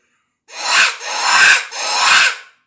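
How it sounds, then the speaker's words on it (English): A FOXPRO electronic predator call plays three harsh, raspy jackrabbit distress screeches in quick succession, loud and close, each about half a second long with brief gaps between them. "Sounds almost terrible, like a frightening sort of a distress cry"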